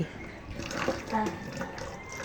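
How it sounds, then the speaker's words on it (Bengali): Sago being rinsed under running water in a kitchen for Bengali payesh, a soft steady trickle and splash with faint clinks, low in level, mixed with light background voices. "সাবুটাকে খুব সুন্দর করে আমি ধুয়ে নিচ্ছি"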